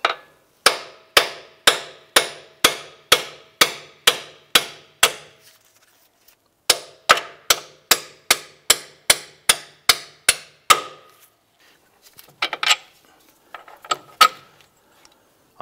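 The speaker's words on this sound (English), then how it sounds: "we're gonna go ahead and use a hammer, hit the end here and pop those bolts out" A hammer strikes metal in a fast, steady run of sharp knocks, knocking splined strut bolts out of a 2006-2011 Cadillac DTS front knuckle, pauses briefly, then resumes with another even series, ending in a few scattered clanks.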